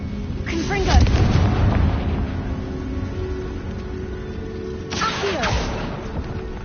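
A Confringo fire spell is cast in a Harry Potter video game, throwing out a booming, rumbling blast near the start and a second sharp burst later, over a low game backdrop where a voice may be heard.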